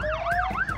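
A highway patrol police car siren gives a loud, close, rising-and-falling wail, cycling quickly through about two sweeps in under a second with no speech.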